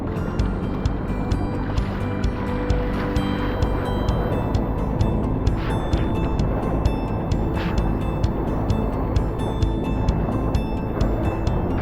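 A wave pool machine at Alaia Bay in Switzerland rumbles and whooshes continuously amid surging water, with intermittent clanking and mechanical knocks over a dense, loud outdoor wash.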